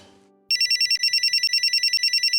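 A phone ringtone starts abruptly after a faint fading tone and repeats as a bright, rapid electronic warble in steady pulses, loud and alone without any talk.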